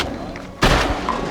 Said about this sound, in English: This is gonna be a fast shot.